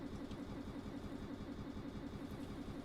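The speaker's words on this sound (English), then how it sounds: "I think it's a fair time to stop the engine." Steady, droning boat engine on a research boat in Stormworks, running continuously at a constant pitch with a pulsing low throb, heard faintly with no voices.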